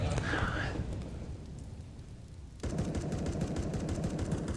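Gunfire in a CS:GO esports match, with rapid shots crackling under a commentator's steady talk before a sharp shift in the game sound.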